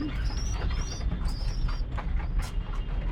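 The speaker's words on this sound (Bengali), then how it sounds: "আর এই যে ঘুঘু এখান থেকে খাবার খেতে আসছে" Doves at a nest feeding spot give soft repeated coos over a low background rumble, several short call phrases spread across the few seconds along with light scuffling.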